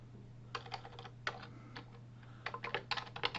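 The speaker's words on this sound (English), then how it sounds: "in here I will type my code" Computer keyboard keys tapped while entering C++ code for a hello.cpp file in the vi editor, in quick clustered bursts with short pauses, fairly close, over a steady electrical hum and no talking.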